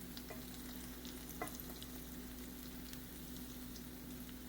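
Chocolate chip French toast frying in vegetable oil in a pan, a quiet, steady sizzle with a faint hum and a few soft clicks.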